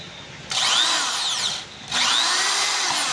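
A power drill whirs at high speed in two close bursts, separated by a short pause when the motor spins down.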